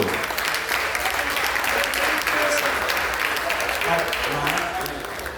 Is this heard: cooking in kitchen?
no